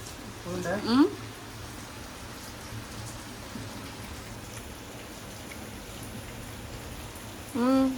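Steady rain patters and hisses throughout, with brief voices at the start and end.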